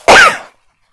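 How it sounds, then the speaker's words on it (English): A single sharp, explosive sneeze bursts out close by, then cuts off into silence. "I'm going to sneeze."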